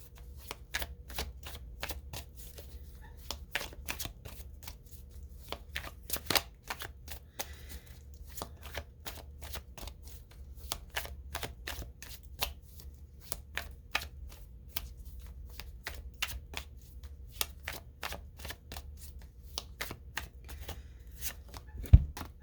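Oracle cards are shuffled by hand in a long run of sharp, rapid riffling clicks and flutters, fairly close and steady, with no talking.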